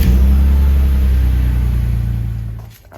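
A BMW S50B32 engine in a car runs loud and close, a steady low rumble that holds and then dips near the end, with no voices.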